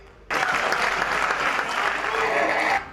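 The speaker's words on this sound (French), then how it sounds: "Marie-Thérèse Masuka Saini a été longuement applaudie" Loud, sustained applause from an assembly chamber greeting an elected provincial deputy of Lualaba, breaking out suddenly and holding steady for a few seconds before cutting off.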